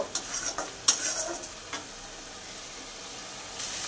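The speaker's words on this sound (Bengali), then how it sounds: "বাটা মশলাটা দিয়ে অল্প মিক্সি ধোয়া জল দিয়ে এটা কিছুক্ষণ কষিয়ে নেব" Ground spice paste is stirred with a little water in a hot pan for a Bengali hilsa fish curry, a soft sizzle and hiss under irregular scraping strokes of the spatula, close and fairly quiet.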